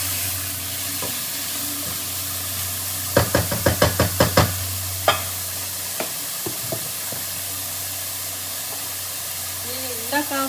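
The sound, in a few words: capsicum frying in a pan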